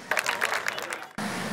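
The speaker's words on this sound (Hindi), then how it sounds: "आपकी भरपूर तालियों में मोहतरमा बीना गोविंदी से इल्तमास है कि वो तशरीफ़ लाएँ" Audience applause at a poetry mushaira at Shahi Qila in Lahore, a brief burst of clapping that cuts off into quieter room noise.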